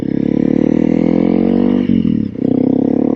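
A Honda CRF 300L dual-sport motorcycle being ridden gently, its single-cylinder engine droning loud and steady with a brief dip and recovery as the throttle changes, heard from the rider's position without talk.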